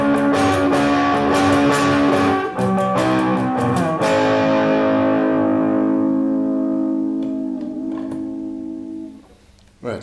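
Stratocaster-style electric guitar on the neck pickup with a distorted tone: a few strummed chords ring out, then a long sustained chord slowly decays, ending with a faint final pluck.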